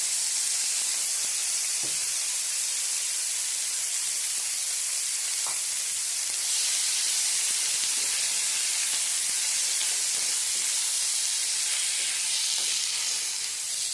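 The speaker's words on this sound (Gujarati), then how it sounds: "હવે આપણે એની અંદર દૂધીના છીલકા નાખીશું" Bottle gourd peels dropped into hot oil with a pinch of asafoetida for a Gujarati chutney, sizzling loudly and steadily throughout with a bright continuous hiss and faint pops, no voices.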